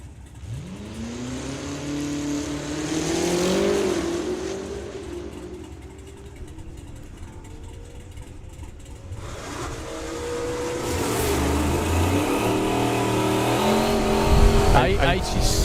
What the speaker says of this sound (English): Arslan with the absolutely mental BMW.